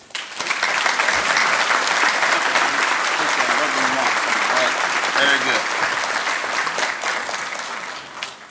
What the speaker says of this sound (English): please give a round of applause for Dr. Joe Wallace